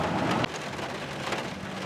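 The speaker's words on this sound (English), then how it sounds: "It's raining as we speak." Steady rain pours down outdoors during work on a Chevy K5 Blazer brake hydro-boost setup in Ohio, a dense continuous hiss with a brief heavier burst at the start, no voices.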